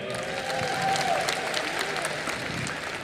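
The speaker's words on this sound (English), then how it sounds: "Round of applause once again." Audience applause at the closing ceremony of a film festival, a steady dense wash of clapping filling the hall, with faint voices and a brief tonal sound mixed in.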